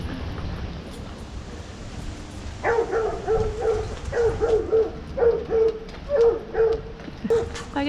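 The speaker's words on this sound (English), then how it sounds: "That's a big old hound dog." A big hound dog bays on a small town street in Grand Forks, a series of repeated howling barks in an uneven rhythm against steady outdoor background noise.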